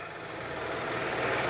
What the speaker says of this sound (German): So, Motor schnurrt.